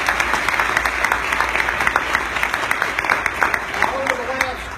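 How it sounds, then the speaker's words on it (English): Audience at an Iftar gathering applauding the event organizers and helpers, a dense steady round of clapping from a room of people, sustained and fairly loud throughout. "I think we need to give them a round of applause"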